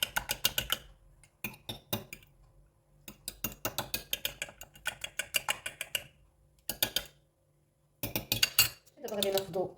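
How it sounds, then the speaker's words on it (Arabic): Potato croquette mixture being stirred in a bowl gives rapid bursts of clinking and scraping against the bowl, repeating in quick rhythmic runs separated by short pauses; a brief voice comes in at the very end. "غادي نخلطهم مزيان."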